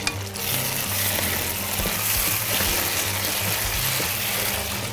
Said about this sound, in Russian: мы дадим время стручковой фасоли немного прожариться